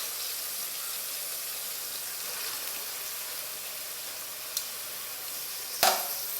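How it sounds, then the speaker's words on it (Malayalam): Onion and curry leaves sauté in a pan for chicken curry, giving a steady, close hiss and sizzle throughout, with a light clink of a stirring utensil near the end. "ഇനി ഇത് നന്നായിട്ട് വഴറ്റിയെടുക്കാം."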